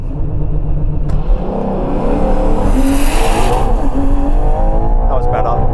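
A Ferrari Purosangue V12 SUV launches on a quarter-mile run, its engine roaring loud and close as it revs hard and climbs steadily in pitch through the acceleration.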